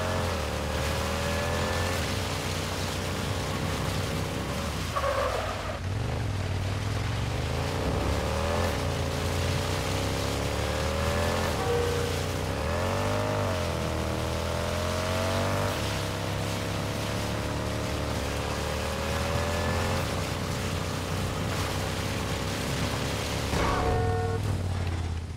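Motorcycle in the video game Gotham Knights popping a wheelie, a loud continuous engine drone with revving pitch swells throughout, close and unbroken.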